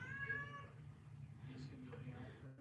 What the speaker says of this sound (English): You all hear my loud kitty? You hear him?